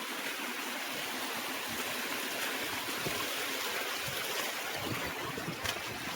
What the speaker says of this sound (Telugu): మొత్తం 3 లేయర్స్ ఆఫ్ వాటర్ ఫాల్స్.